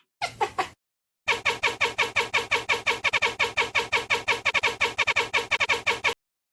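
Rapid, evenly spaced cat-chirp squeaks, a sample without effects, repeat in a fast rhythmic stream, bright and dry, after a brief opening burst and a short pause.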